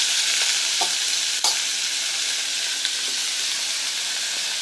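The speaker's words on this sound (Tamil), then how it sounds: "ஆயிலே வந்து இந்த வாழைக்காய் வதக்கணும்." Raw banana pieces sauté in hot oil with a steady, bright sizzle, punctuated by a few soft stirring clicks and scrapes, close and continuous with no talking.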